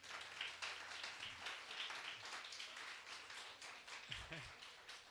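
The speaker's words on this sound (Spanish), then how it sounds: "si aplaudo al Señor" A church congregation claps for the Lord during a Sunday service, a dense steady patter of many hands filling the room, with talk over it and a voice rising near the end.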